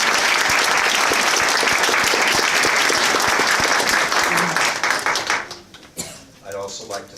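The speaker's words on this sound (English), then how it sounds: "Let's give her a big round of applause." At a naturalization ceremony in a library, an audience claps loudly and steadily for several seconds before the applause fades and a voice begins speaking.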